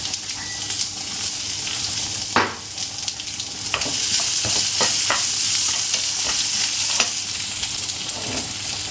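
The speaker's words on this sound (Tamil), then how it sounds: "வடகம் பொரிஞ்சிருச்சு பூண்டு இடித்து அப்படியே போட்டுக்கிட்டேன்" Vadagam and crushed garlic crackle in hot oil for a tempering, a dense steady sizzle broken by a few sharp stir scrapes and spatter bursts.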